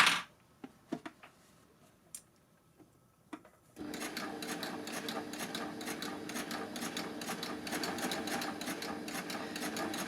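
A few faint clicks and taps give way to a Baby Lock overlocker with a blind hem foot stitching steadily, a fast, even mechanical whirr at moderate volume that runs on without pause.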